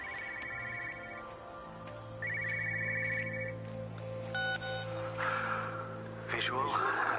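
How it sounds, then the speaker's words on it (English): Telephone in a car park ringing in bursts inside the video game Everybody's Gone To The Rapture, two trilling rings at moderate distance over a steady ambient drone and layered game sounds. "car park where you can hear a phone ringing"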